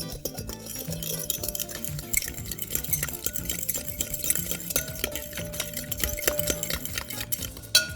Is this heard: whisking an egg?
yes